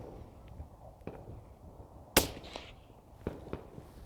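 A rifle shot through a CAT WB Ti 5.56 suppressor on a hub mount with 77-grain ammunition, a single dull, sharp report, followed by fainter outdoor knocks and clicks.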